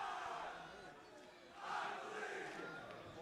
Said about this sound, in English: using that great soccer chant from the U.S. in the 2014 World Cup